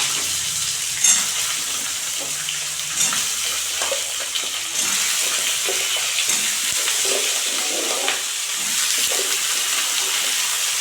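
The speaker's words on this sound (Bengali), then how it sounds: "এখন সবজিগুলো দিয়ে দেবো সব" Mixed vegetables frying in a pan with ginger paste, a steady broadband sizzle running throughout with occasional stirring clatter, close and moderately loud, no talking.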